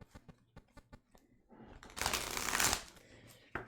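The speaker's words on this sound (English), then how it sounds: "They shuffle great too." Encore tarot cards being shuffled: a few soft taps and handling clicks, then a loud riffle burst of cards whirring together, ending with a sharp snap, close to the microphone.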